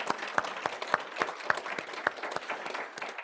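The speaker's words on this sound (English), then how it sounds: "can we give a round of applause to all these great people?" Audience applause at a talk, a modest crowd clapping with distinct individual claps standing out sharply over a softer, thinner bed of hands, fairly close and steady throughout.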